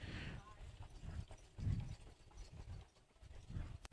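Harness-racing trotters, two-year-olds, drum their hooves in a steady clip-clop as they pick up speed on the track, with an announcer calling the race over the hoofbeats.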